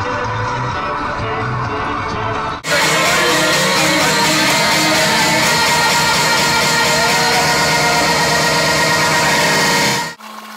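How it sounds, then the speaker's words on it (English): A new boat outboard motor running on a sailing trip, a loud steady mechanical roar starting abruptly after a short quieter stretch and cutting off near the end. "This is my new outboard motor."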